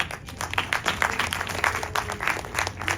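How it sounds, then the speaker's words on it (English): The audience at Disneyland's Turtle Talk with Crush show claps together in a short burst of close, lively applause that keeps going for a few seconds. "everyone get a round of applause for the moonfish"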